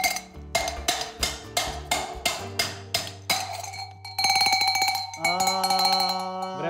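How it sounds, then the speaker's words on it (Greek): Handmade goat and sheep bell being tuned: a run of sharp metallic clanks struck one by one at a quick, even rhythm, then denser ringing strikes with long bright overtones, close and clear with no talk. "Τώρα θα κουρδίσουμε ναι. Το κουδούνι."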